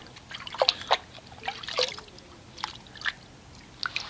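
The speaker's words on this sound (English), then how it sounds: "But just mixing it up a little bit with our hand here" A hand swishes Nanoskin Wash and Shine Cherry Suds car wash shampoo through a bucket of water, making close, irregular sloshes and trickles in short splashy bursts with quiet gaps between them.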